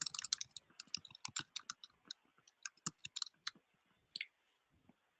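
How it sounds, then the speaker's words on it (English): Fast clicking of computer keyboard keys as a description is typed, quick irregular bursts of close, crisp taps with short pauses, no talking. "I can type in a description here."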